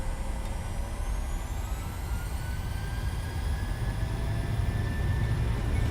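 A PMDG 737-800's jet engines at takeoff thrust in Microsoft Flight Simulator 2020, a steady loud roar with a high turbine whine that slowly climbs in pitch, heard alone.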